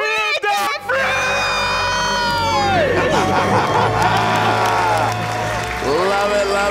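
A couple screaming and cheering in celebration after paying off their debt, loud overlapping shouts and whoops with an excited crowd and applause behind them, sustained for several seconds.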